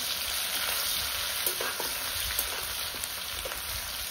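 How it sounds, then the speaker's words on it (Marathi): Garlic and coriander paste frying in a pan on a wood-fired stove, a steady close, loud sizzle with faint crackles and scraping stir sounds throughout, no talking. "लसूण सोनेरी कलर येईपर्यंत मस्त लाल होईपर्यंत तळून घ्यायचं आहे."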